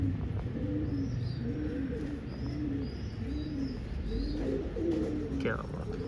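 Pigeons coo in a repeated, rhythmic low rolling pattern, close by and fairly quiet, with faint chirps from other birds in the background.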